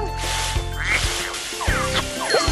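Cartoon ducks in a Babybus children's game quacking in quick bursts, several bright nasal quacks scattered over a looping background tune.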